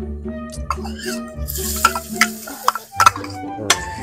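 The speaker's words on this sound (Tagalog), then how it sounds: "magigisa na tayo ng bawang at sibuyas" Garlic sautéing in hot oil, with a pan being stirred, giving soft sizzling under scraping and clattering utensil sounds and several sharp clicks.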